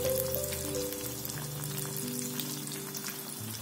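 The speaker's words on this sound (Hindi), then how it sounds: "यहाँ पे हम मीडियम फ्लेम पर इसको गोल्डन ब्राउन होने तक डीप फ्राई करेंगे।" Paneer pieces deep frying in a kadhai of hot oil over a medium flame, giving a steady, dense sizzle and bubbling that holds at an even loudness throughout, close up and with no voices.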